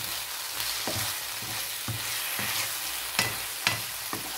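Ingredients for penne al pesto sauté in a pan with a steady, close sizzle, broken by periodic stirring scrapes and a few sharper clacks of the utensil.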